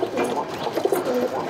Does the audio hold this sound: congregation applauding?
no